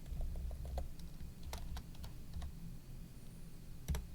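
Someone types a name on a computer keyboard during a Tinkercad 3D modeling class, producing a close run of uneven key clicks with a couple of sharper taps over a low room hum.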